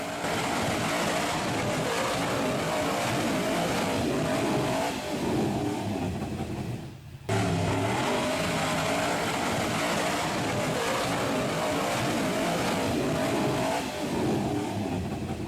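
Off-road buggy on Interco TSL tires revs hard, climbing a steep hill. The engine roar is rough and distant, with one brief dip midway before it surges on.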